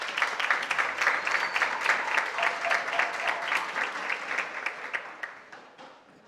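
Audience applause at a regional oratory contest award ceremony in Veraguas, Panama, a steady wash of many hands clapping that fades out toward the end.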